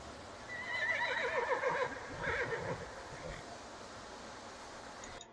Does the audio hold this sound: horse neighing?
yes